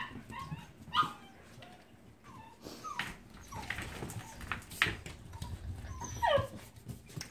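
A dog whimpers and yips in short, high-pitched bursts and breaks into an occasional bark, up close and fairly loud, over a low rumbling background with no talking.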